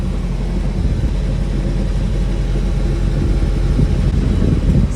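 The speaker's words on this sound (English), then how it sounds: "Sorry about the reefer noise." The refrigeration unit on a truck trailer, parked near a Freightliner's fifth wheel, drones steadily with a loud, constant rumble and hiss that does not change over the whole stretch. No talking.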